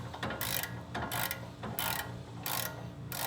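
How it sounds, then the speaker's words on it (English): Ratchet with a 17 mm socket on a 1/2 inch drive tightening brake bracket bolts on a 2005-2015 second-generation Toyota Tacoma. Close, steady rapid clicking in repeated strokes, alone. "We're gonna get our 17 millimeter 1/2 inch drive"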